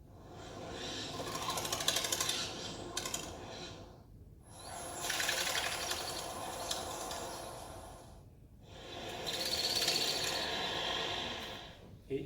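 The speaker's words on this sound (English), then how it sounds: "Okay, three different pigeons, three different type of flight sounds." Wingbeats of three pigeon species in flight, including a zebra dove, heard as three separate bursts of rapid whirring, rustling flutter, each a few seconds long with brief silences between, close and clear.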